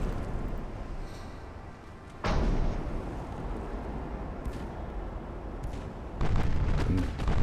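Naval guns firing HE shells in Ultimate Admiral: Dreadnoughts, a naval strategy game: two heavy booming salvos about four seconds apart, each followed by a rumbling roar that fades.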